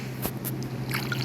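Refilling a watering can in the Stardew Valley video game: a short, close liquid splash and squish with a couple of quick water blips over steady background game ambience.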